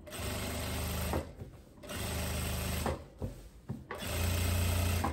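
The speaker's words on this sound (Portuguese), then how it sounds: "Estou fazendo esse pesponto do lado direito." A sewing machine topstitches a striped linen dress in three loud whirring runs, separated by brief pauses filled with fabric handling and mechanical clicks.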